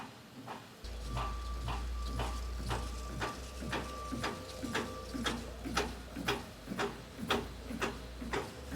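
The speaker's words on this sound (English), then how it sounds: "So what this is doing is it's sealing and perforating the bag." A factory machine seals and perforates compostable produce bags with a steady, rhythmic run of mechanical clicks and thumps over a low constant hum, close and loud, with no talk.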